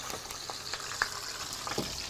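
Mackerel fries in a pan with thyme and bay leaves, giving a steady soft sizzle with a few faint clicks and taps of the pan, no voices.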